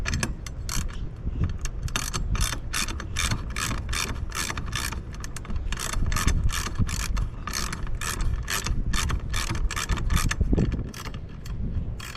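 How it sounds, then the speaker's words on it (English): A bolt is threaded down through a homemade RV stabilizer, giving a rapid, continuous run of metallic ratcheting clicks at an even rhythm, close and fairly loud, with no voices. "thread the bolt right down through, and that helps hold it in place"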